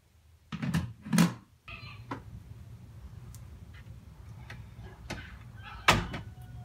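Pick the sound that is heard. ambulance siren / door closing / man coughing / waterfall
door closing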